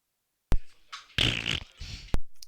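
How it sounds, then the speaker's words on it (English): A raspberry blown with the lips at a Weiss Schwarz card game livestream, heard as a few short, loud buzzing bursts close up, with brief gaps between them and no talk over it. "Not to be mistaken with fart sounds. That was a raspberry."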